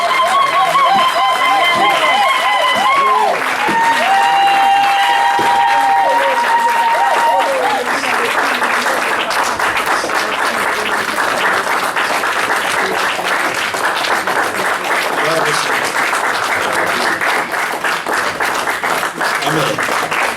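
Applause and cheering from a congregation at a French-language church service, steady clapping that fills the room, with voices and singing standing out at first before the sustained clapping takes over.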